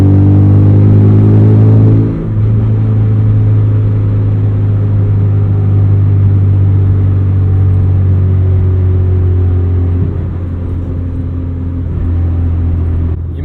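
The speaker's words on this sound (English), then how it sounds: "You might have noticed the exhaust has been modified. There are no mufflers." A 1995 Porsche 968 with a modified, muffler-free exhaust drones loudly from the cabin, a steady deep engine rumble with a brief dip in revs near two seconds, then settling into constant cruising with no talk.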